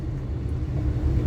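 A car drives along a rainy Mumbai road, giving a continuous low engine and tyre rumble heard from inside the vehicle, steady throughout the short stretch.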